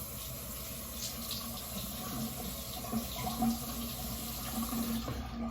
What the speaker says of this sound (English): What I'm gonna do now is get a little warm water on the face.